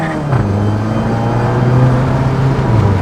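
A Mk7 GTI with a steel oil pan pulls hard under acceleration, its engine note a loud, close, steady drone that climbs gradually through the gear, with no voices.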